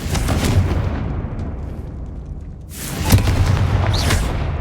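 Blasting-spell explosions in the Hogwarts Legacy game, two loud booming bursts a few seconds apart with rumbling decay between them, no talking.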